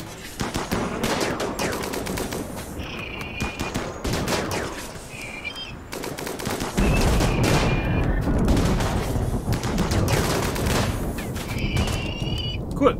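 Sustained automatic gunfire in a video game, a dense stream of close shots running almost without a break, with a brief lull midway and faint chirping effects in the background.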